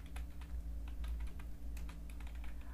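Quiet, steady typing on a computer keyboard with rapid irregular key clicks over a low electrical hum, no voices.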